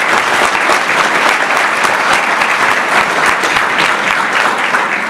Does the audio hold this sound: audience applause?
yes